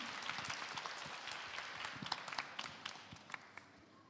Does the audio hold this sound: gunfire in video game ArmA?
no